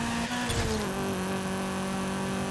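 Honda CRX engine in Forza Horizon 5 droning at a high steady pitch as it races, a sustained close engine tone that shifts down slightly partway through.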